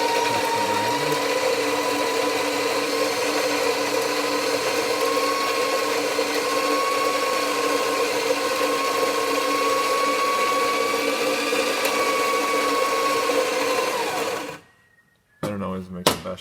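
A La Pavoni coffee grinder runs steadily, grinding coffee beans with a loud, even whirring whine for about fourteen seconds before cutting off abruptly, followed by a brief clatter.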